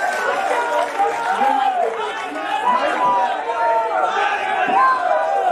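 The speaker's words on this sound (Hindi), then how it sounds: "जोरदार तालियां बजा दीजिए" A large political rally crowd shouts, cheers and applauds loudly and continuously, many voices roaring together in waves.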